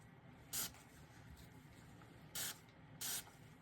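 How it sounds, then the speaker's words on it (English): Isopropyl alcohol is sprayed from a spray bottle onto resin 3D prints in three short hissing bursts, one early and two close together near the end, each crisp and near against a quiet room. "And I'm going to spray both of these with alcohol."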